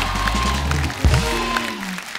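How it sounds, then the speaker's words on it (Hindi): A studio audience applauds for actress Taapsee Pannu, a steady patter of clapping that briefly swells in the middle, with a voice speaking over it. "तापसी के लिए जोरदार तालियां।"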